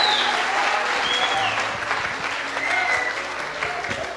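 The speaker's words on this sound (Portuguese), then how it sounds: "Tem alguém que pode aplaudir, celebrar o Todo-Poderoso?" Applause from a church congregation during a Pentecostal sermon, a steady, dense clapping crowd filling the space for several seconds, with faint voices mixed in underneath.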